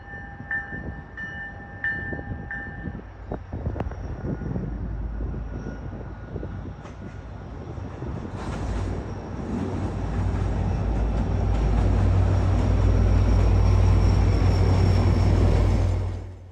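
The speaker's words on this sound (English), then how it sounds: "The train you are seeing right now is an inbound on the eastern route, coming from Newburyport or Rockport." An MBTA inbound commuter train on the eastern route from Newburyport or Rockport passes by, its low rumble building steadily into a loud, sustained roar of wheels and cars before cutting off, after a brief high tone early on.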